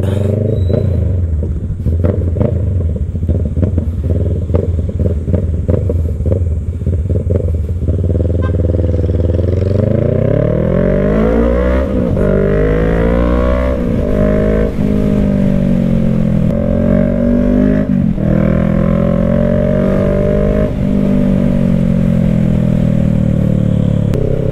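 Motorcycles ride along a road toward Pililla, Rizal, their engines rumbling and revving close by, with throttle rising and falling in steady waves over a continuous clattering drone.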